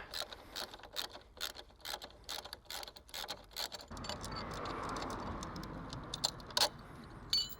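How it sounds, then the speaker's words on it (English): Small metal pin and split pin being fitted to the pillion peg of a Yamaha XJ6 motorcycle, producing close, irregular metallic clicks and taps with a steadier scraping rustle in the second half. "Put the original pin back in, and the split pin."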